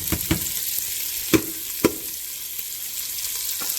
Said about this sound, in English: dump these onions in there for about 5 to 6 minutes